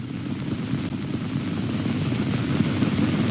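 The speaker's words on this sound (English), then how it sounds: "The battalion commander performed his tactical damage assessment by helicopter." Military helicopter flying over a nuclear weapons test area, heard as a steady broadband rotor and engine rumble that holds evenly throughout with no talking.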